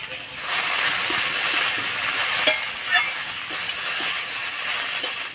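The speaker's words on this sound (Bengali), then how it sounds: "কাঁচা লঙ্কা দিয়ে ভালো করে নাড়াচাড়া করে নিলাম।" Banana flower vadal with green chillies being stirred in a hot pan, a steady frying sizzle with soft scraping strokes of the spatula repeating throughout.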